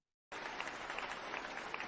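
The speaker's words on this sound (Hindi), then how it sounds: "सभी के नाम से जोरदार ताली होना चाहिए" Loud applause at a motivational business meeting bursts in abruptly after a short silence, a dense, steady roar of many hands clapping with no talk over it.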